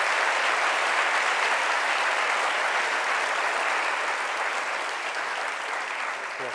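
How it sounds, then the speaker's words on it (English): Sustained audience applause fills a lecture hall after an investment talk, a broad, even wash of many hands clapping at steady loudness before tapering slightly at the end. "when there's that much applause, usually the person does an encore"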